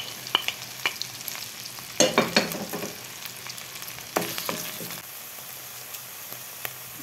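Sliced, washed mushrooms hit hot butter in a pan and sizzle steadily, with bursts of stirring and scraping at intervals and no talking.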